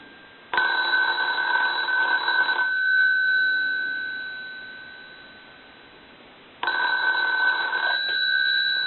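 A decorative wooden wall telephone, under repair, rings its bell in two loud bursts of rapid metallic ringing separated by a pause of a few seconds. Nobody speaks over it.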